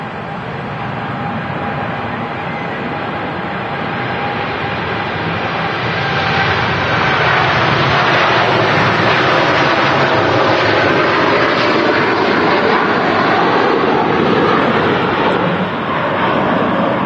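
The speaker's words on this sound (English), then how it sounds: "There goes the Cancun-bound TUI Dreamliner." A TUI Boeing Dreamliner bound for Cancun takes off from Manchester Airport, its broad, rushing jet roar swelling and holding loud and steady without talk.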